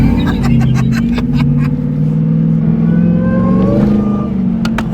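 A Jeep accelerating hard in third gear at around 18 mph, its engine drone loud, close and steady throughout and rising slightly in pitch, with no speech over it.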